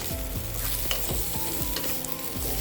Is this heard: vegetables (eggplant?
yes